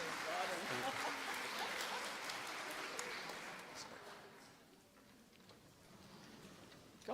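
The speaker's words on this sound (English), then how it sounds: "they're applauding" Congregation applauding at a Shabbat evening service in a synagogue as a boy is brought up to the bima; a steady wash of clapping that gradually fades, with voices murmuring underneath.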